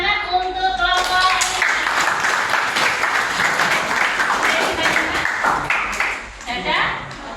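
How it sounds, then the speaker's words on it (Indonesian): A classroom breaks into applause for a student group, a dense wash of clapping and cheering voices. It rises after the first second, stays loud and steady, then thins toward the end with talk mixed in. "Tepuk tangan untuk kelompok."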